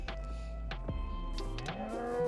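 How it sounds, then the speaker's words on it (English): Cows in a video game give a few drawn-out moos, low and bellowing, sounding close over a steady background hum with no talking. "It's just the cows."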